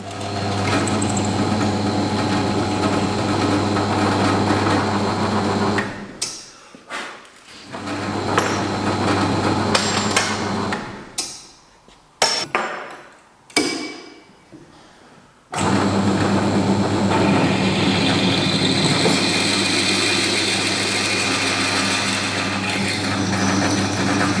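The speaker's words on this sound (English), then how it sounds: "These ones are all going to get drilled out to 8mm." A power drill whines loudly and continuously, drilling holes out to 8mm in a bushcraft knife, cuts out for several short stop-start bursts, then resumes a long steady run.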